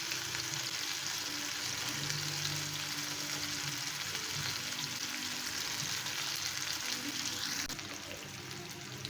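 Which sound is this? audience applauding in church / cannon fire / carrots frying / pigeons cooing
carrots frying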